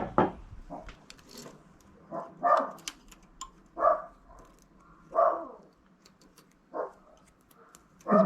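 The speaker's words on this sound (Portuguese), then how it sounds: "As minhas cachorras fazem um alarido" Several dogs bark in short, spaced bursts at a moderate distance, with light ticking and clicking in the quiet gaps between barks.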